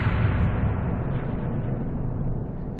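A deep, rumbling explosion from Final Fantasy VII fills the clip, loud and sustained with a heavy low-end roar that slowly fades, no voices.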